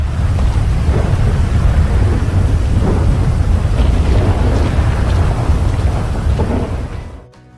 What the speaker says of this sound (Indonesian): Saat badai datang, angin kencang meniup pepohonan, hujan mengguyur tanah,